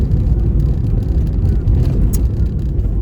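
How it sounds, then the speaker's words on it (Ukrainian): A car driving along a road, heard as a steady, loud low rumble of engine and tyres with a dull whoosh, recorded from inside the vehicle. "їдемо в дорозі."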